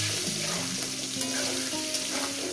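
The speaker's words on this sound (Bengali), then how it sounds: "এবার এটাকে সুন্দর করে আমি ভেজে নেব।" Frying in a pan with turmeric added, a continuous close sizzle with faint stirring, no talk.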